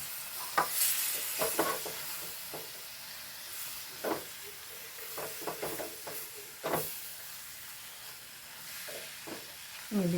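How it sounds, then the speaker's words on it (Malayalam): Vinegar-soaked dates are stirred into a sizzling green chili pickle mixture in a pan, giving a soft steady hiss punctuated by irregular spoon scrapes and clinks, fairly close. "ഈത്തപ്പഴം ഇട്ട് കൊടുക്കുന്നുണ്ട് ഇളക്കി കൊടുക്കാം കേട്ടോ"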